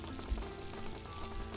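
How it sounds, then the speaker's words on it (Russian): Heavy rain pours steadily onto a house roof at night, a dense, continuous hiss and patter with no breaks, moderately loud and filling the whole space. "это всезаполняющий шум дождя лучшее, что я слышал в своей жизни"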